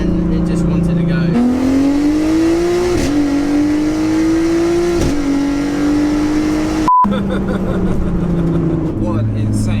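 A 900bhp 3.2-litre turbo Audi A3 accelerates hard, its loud engine note climbing steadily through the gears with a brief break at a shift, the roar sustained and close from inside the car.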